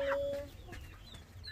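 Ducklings being handled as they hatch: a brief, high, thin chirp at the start, then faint rustling and background noise, with no clear talking.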